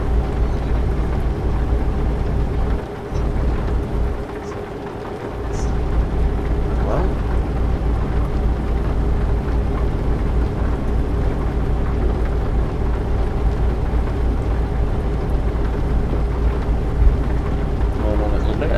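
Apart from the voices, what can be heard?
heavy rain at night in Euro Truck Simulator 2 video game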